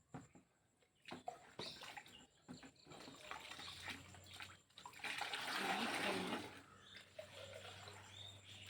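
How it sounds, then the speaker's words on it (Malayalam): Water pours steadily into an organic fertilizer slurry of rice water, ash and turmeric, a close splashing stream that swells to a strong gush midway and then eases, with a faint low hum beneath. "പച്ചവെള്ളം പിന്നെ കഞ്ഞിവെള്ളത്തിൻ്റെ കട്ടി പോലെയാണ് നമ്മൾ പച്ചവെള്ളം ഒഴിക്കേണ്ടത്"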